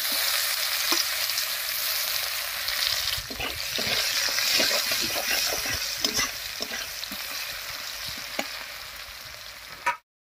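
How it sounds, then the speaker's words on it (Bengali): Whole garam masala, cumin seeds and chopped onion fry in oil with a loud continuous sizzle, punctuated by scraping stirs and spatula knocks, ending abruptly. "আর ফোড়ন দেবো গোটা গরম মশলা, গোটা জিরা আর পেঁয়াজ কুচি দিয়ে"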